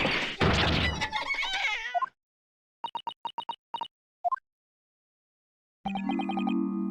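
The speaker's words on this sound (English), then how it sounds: "Cat!" In The Great Ace Attorney video game, a cat tangled in a violin yowls and meows, then a series of short plucked tones follows, a brief pause, and a sustained tonal sound returns at the end.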